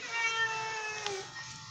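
A house cat lets out a single drawn-out, plaintive meow nearby, fairly clear and slightly wavering, with no talking over it.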